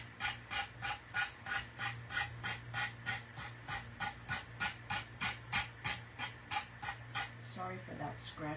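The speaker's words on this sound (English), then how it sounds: "Sorry for that scratching noise." Scraping of excess decoupage paper off a craft cutout for pink pumpkin decor, a rough rasping stroke repeated in a quick steady rhythm, close and fairly loud over a low background hum.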